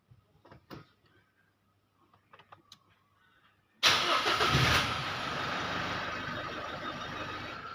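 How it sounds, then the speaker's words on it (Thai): A car with sluggish acceleration and a missing engine warning light, scanner plugged in: a few faint clicks and taps, then the engine cranks and catches abruptly, settling into a steady, close idle hum. "ผมก็จะสตาร์ท เครื่อง นะครับ"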